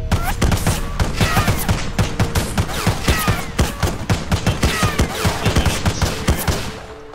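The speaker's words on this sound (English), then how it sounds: "It's fireworks." A dense, continuous crackle of rapid explosive pops and bangs from fireworks in a video game, loud and relentless for several seconds with no pause.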